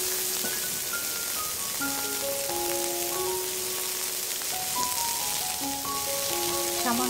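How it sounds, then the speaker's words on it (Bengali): Chopped onion fries in a pan as a soft, even hiss that continues throughout, while a melodic tonal line plays over it and no one speaks. "এখন এই প্যানের মধ্যেই দিয়ে দিচ্ছি 1/2 কাপ পেঁয়াজ কুচি।"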